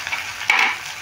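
Chopped soybean chunks with green chilli fry in a hot pan for a Bengali snack, a bright sizzle swelling as a spoon stirs and scrapes them midway, close and loud with no talk.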